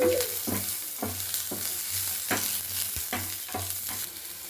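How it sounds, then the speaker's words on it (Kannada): Capsicum fries in a pan, a spatula stirring in a regular series of scraping strokes over a continuous low sizzle, close and without talking. "ಕ್ಯಾಪ್ಸಿಕಮ್ ಹಾಕ್ಕೊಳ್ತಾ ಇದ್ದೀನಿ ಎರಡು ನಿಮಿಷ ಫ್ರೈ ಆಗಬೇಕು"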